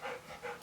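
A dog panting heavily close by, quick rhythmic breaths repeating through the short moment with no talk.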